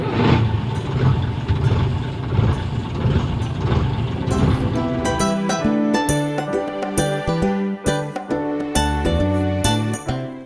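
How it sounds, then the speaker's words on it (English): A toy logistics truck's engine effect: a rough idling rumble that gives way to a rhythmic, musical chugging with repeated tonal beats, loud and close. "Logistic truck."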